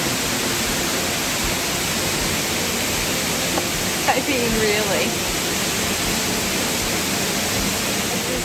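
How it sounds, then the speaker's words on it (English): Lower North Falls, a waterfall in Oregon, roars as a steady, loud broadband wash throughout, with a brief spoken remark near the middle over the constant rush. "For the record, this is Lower North Falls."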